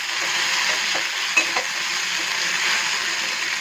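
Bengali fish curry sizzling in a wok, a continuous close hiss of frying broken by one or two faint utensil clicks.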